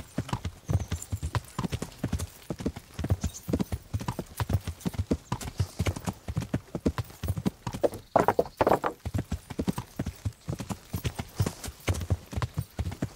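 Horse hooves clip-clop in a fast, steady rhythm while riding in the video game Kingdom Come: Deliverance, loud and close, with a brief whinny-like sound partway through.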